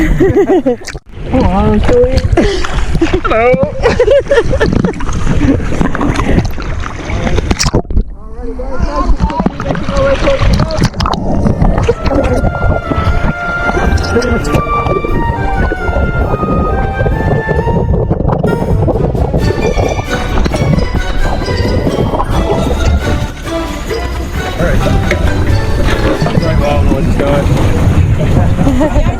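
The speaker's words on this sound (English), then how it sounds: "That's a nice boat." A boat moves across open water, its loud, continuous rush and slap of water carrying under heavy wind buffeting on the microphone, with voices talking over it for much of the time.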